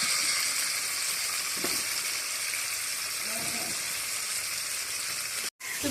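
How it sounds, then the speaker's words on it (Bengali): Spices for a tempering crackle and sizzle in hot oil already used for frying, a steady bright hiss with a few faint stirring clatters, cut briefly near the end. "এখন আমি ফোড়নটা দিয়ে দেব।"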